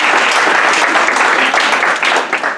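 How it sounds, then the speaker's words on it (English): An elementary school audience at a Destination Imagination event breaks into loud, dense applause that continues steadily and then starts to thin out at the very end. "Please, round of applause."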